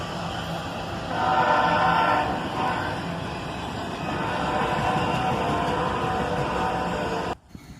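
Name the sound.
CSX ES-44ACH and AC-44CW locomotives moving an autorack train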